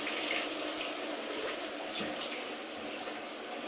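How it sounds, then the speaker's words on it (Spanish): Shower water runs steadily as a broad, even hiss throughout, with a couple of faint splashes or knocks near the middle and no speech. "Voy a parar la ducha ahora"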